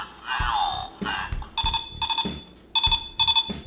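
A Power Rangers toy morpher in calling mode rings electronically in short repeated bursts of chirping trills, loud and close, with brief gaps between the bursts.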